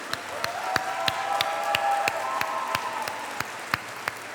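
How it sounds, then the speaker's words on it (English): Audience applause at a convention panel comes through faintly as a sparse, evenly paced series of distinct claps over a low crowd murmur, with a soft steady tone running beneath. "please join me in a round of applause for Dan Fogler"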